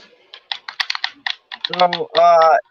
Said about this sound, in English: I hear all types of joystick clicking